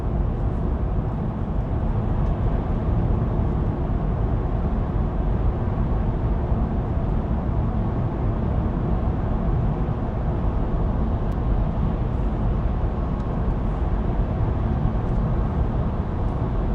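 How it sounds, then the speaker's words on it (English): A Mercedes EQV electric van drives on the road, and the cabin fills with a steady, even hum of road and wind noise that never changes. No one speaks. "I actually feel like the EQV is noisier than bus. You guys can hear it, right?"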